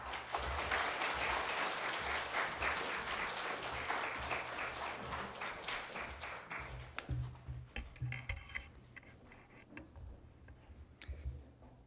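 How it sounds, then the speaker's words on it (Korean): A church congregation at a Sunday service claps to welcome a guest speaker, a steady wash of dense applause that breaks up into scattered individual claps and dies away near the end. "우리 나오실 때 큰 박수로 환영해 주시기 바랍니다"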